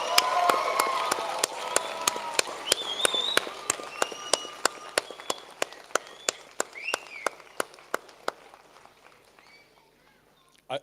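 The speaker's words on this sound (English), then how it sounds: "Give them a huge cheer and round of applause." A graduation audience cheers and claps in a hall, with whistles and raised voices over quick, even claps that fade away toward the end.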